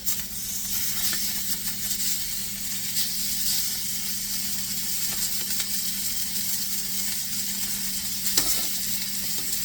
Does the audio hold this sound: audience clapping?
no